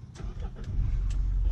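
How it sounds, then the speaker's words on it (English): A 2020 Mitsubishi Montero Sport GT started by push-button ignition from inside the cabin: a few light clicks, then the engine cranks and settles into a steady idle hum, heard up close with no talking. "let's start the engine by stepping on the brakes and then push the ignition"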